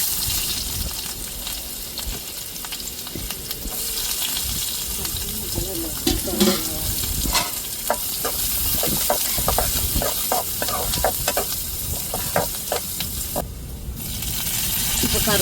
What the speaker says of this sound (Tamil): நான் வெந்தயம் போட்டு தாளிச்சுக்கிறேன்.